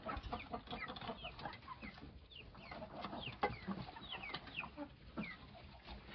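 Backyard chickens, white hens kept at a homestead, cluck softly and continuously at a moderate distance, with several overlapping short calls and chirps forming a busy farmyard background.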